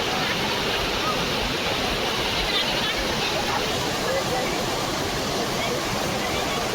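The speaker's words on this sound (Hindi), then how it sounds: "ये देखो झरना यहाँ पे" A waterfall at Amarkantak roars as a steady, dense rush of falling water, loud and continuous throughout, with faint voices in the background.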